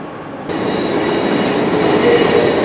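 A ScotRail Class 156 diesel unit at Glasgow Central starts up abruptly after a brief hush, then holds a loud, steady rumble with a high whining tone and faint wheel squeal, no voices.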